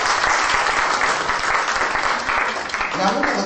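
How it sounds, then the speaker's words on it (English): An audience at a fundraising and awards night claps together in a loud, sustained round of applause, with a few voices faintly audible near the end. "give yourselves a round of applause for being here"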